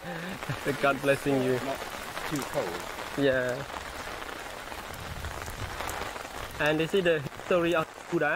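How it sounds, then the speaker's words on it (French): Steady rain pattering down at a temple in Cambodia, a constant hiss beneath people talking at intervals. "La pluie ne va pas durer."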